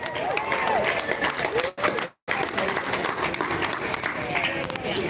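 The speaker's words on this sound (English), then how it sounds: "Give a round of applause for that for a moment." Applause from an audience at a gathering about exonerees at the Michigan Capitol in Lansing, dense steady clapping with crowd noise that briefly drops out near the middle, then resumes at full strength.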